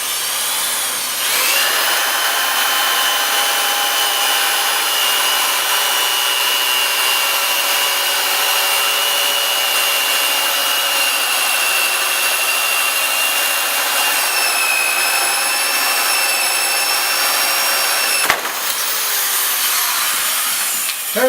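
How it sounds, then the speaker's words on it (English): A 1-inch knot hole bored into a wooden spar, a steady, loud, whining power-tool drone cutting through wood for about seventeen seconds before a sharp stop, then a brief restart, with no speech. "I'm going to bore a 1-inch knot hole out here"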